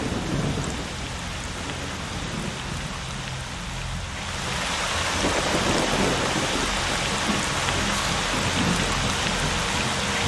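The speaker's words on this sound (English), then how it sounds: "Sorry about the noisy storms, there's not really much I can do about that." A heavy rainstorm with thunder in the video game STALKER: Shadow of Chernobyl, a dense, loud hiss of rain that swells stronger midway and continues unbroken, with no talking.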